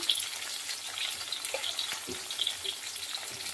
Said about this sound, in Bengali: এবার দাঁড়িয়ে চালিয়ে আলুটাকে একটু ভাজা ভাজা করে নেব।